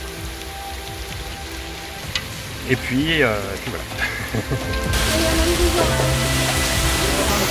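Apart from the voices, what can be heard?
heavy rain falling in Zanzibar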